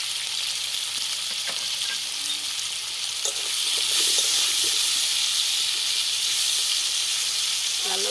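Steady sizzling of potatoes frying in hot oil with salt and turmeric, a dense bright hiss that grows a little louder midway, with occasional soft stirring clicks.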